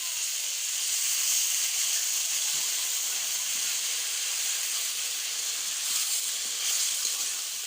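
A little water added to meat cooking in a pan brings up a steady, moderately loud steam hiss and sizzle that holds throughout with slight surges, with no voices over it.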